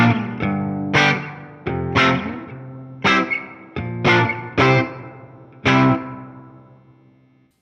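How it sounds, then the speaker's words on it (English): Electric guitar played through the Fender Tone Master Pro's 65 Spring Reverb, modeled on the reverb built into blackface amps: about eight picked chords and notes, each with a bright attack and a washy ringing tail, played alone. "this is the 65 Spring Reverb that came built into the blackface"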